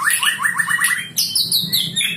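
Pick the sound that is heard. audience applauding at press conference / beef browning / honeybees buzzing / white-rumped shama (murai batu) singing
white-rumped shama (murai batu) singing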